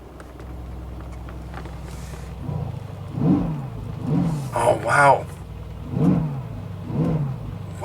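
A Ford F150 starts with its exhaust valves open and settles into a steady idle, then gives several sharp loud revs with deep rumbling swells, while a person reacts.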